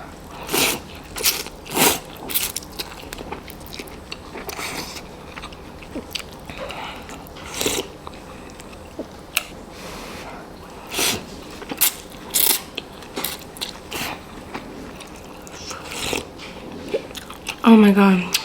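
Spicy homemade Vietnamese beef pho being eaten, with repeated close, irregular bites and wet chewing sounds scattered across the stretch, and a louder slurp or clatter near the end.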